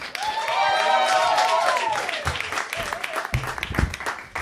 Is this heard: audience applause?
yes